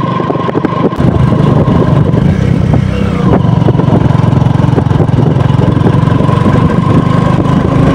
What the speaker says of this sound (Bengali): গিয়ার ডাউন করে দিলাম।